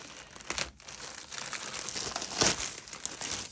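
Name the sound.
crinkling plastic packaging being opened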